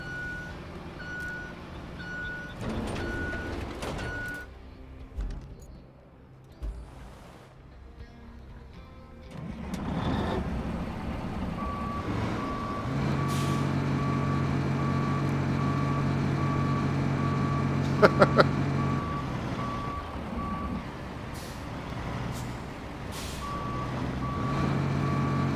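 A semi-truck in the Roadcraft video game reverses with a steady, repeating electronic beep over a continuous engine drone, with brief clanks near the middle.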